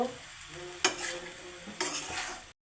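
Drumstick flowers with onion, green chili, turmeric and salt are stirred in oil, a soft sizzle under two sharp spatula scrapes against the pan, close and clear, before abruptly cutting off.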